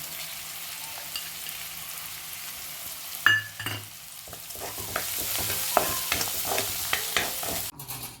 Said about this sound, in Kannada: ಹೀರೆಕಾಯಿ ಬೋಂಡ ಮಾಡ್ತಾ ಇದ್ದಾರೆ.